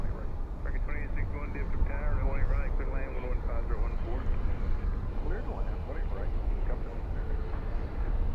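An airliner in a birthday cake livery arrives at Dallas/Fort Worth airport at night, its low steady engine rumble running continuously beneath a person talking over it.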